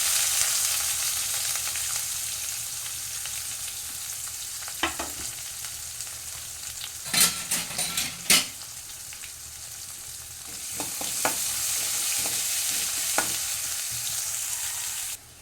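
Chopped onion frying and stirred in a pan for a tomato fenugreek curry, a steady close sizzle with a cluster of sharp spoon clinks and scrapes in the middle and a few more later.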